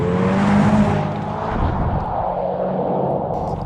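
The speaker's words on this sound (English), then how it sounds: "they were going to give it fake engine sounds, not just inside the car but with the snap, crackle and pop outside as well" A 2024 Hyundai Ioniq 5 N electric car plays a synthetic engine sound that rises loudly at first, then holds a rough, rumbling drone with faint crackles as it drives close by.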